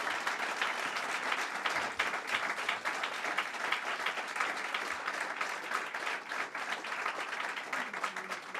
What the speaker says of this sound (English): Let's give the governor a strong round of applause.